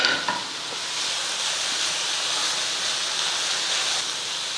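Manathakkali greens stir-fried with grated coconut, stirred in a hot pan: a steady, bright sizzle with scraping stirs near the start, loud and close, with no talking.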